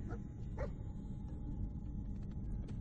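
The dog Dogmeat in the Fallout 4 video game gives a couple of short barks and then fainter whimpers and yips over a low rumbling game background, with no talking.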